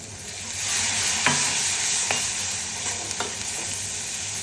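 Spice paste (masala) fries in a pan with a steady, loud sizzle, broken by occasional clicks and scrapes of stirring.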